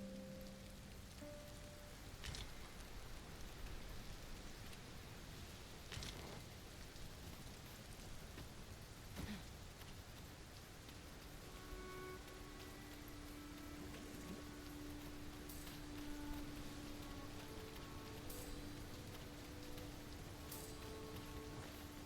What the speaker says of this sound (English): must be really down on our luck to get caught out in such a downpour